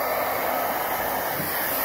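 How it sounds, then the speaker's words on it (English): A hair dryer running on its high setting, powered through an MPP Solar LV2424MSD 2.4kW 24V inverter during a load test, gives a loud, steady, unbroken whoosh with no voices. "the hairdryer on medium, or we can have the hairdryer on high"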